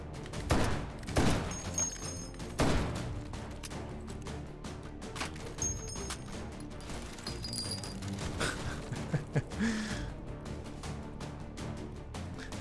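Shotgun blasts in the VR shooter H3VR, several loud sharp reports spaced a few seconds apart, with clattering handling noises and smaller impacts between them.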